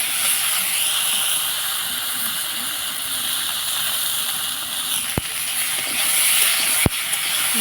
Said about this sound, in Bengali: এবার অল্প তেল দিয়ে ঝিঙে আলুটা একটু নেড়ে নেব